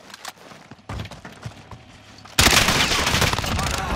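Close, loud gunfire in a team shooter game: sporadic single shots at first, then a dense sustained burst of rapid automatic fire that fills the second half.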